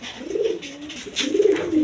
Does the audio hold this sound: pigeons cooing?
yes